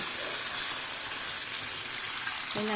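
Fish frying in sauce in a pan gives a steady, close sizzling hiss throughout, with a short tonal clink near the end.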